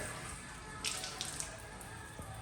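Water runs steadily from a tap in a uniquely designed public urinal at Dubai's Last Exit, a continuous close hiss with a few brief splashy bursts.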